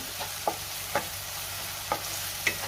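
Chana masala spices, including Kashmiri red chilli, coriander, cumin and amchur powder, are mixed in a pan over a quiet, even sizzle, with four or five light spoon taps.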